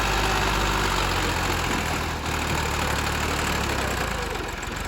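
A tractor engine idling loudly and close at hand, a continuous low, throbbing knock with a steady rhythm and no voices over it.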